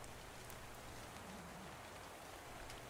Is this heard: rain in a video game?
yes